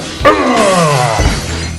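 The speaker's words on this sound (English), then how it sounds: "I tend to lead towards the glass shattering. You get sound effects." Glass shatters in one loud crash with ringing shards trailing off over about a second, a wrestling entrance sound effect heard alone.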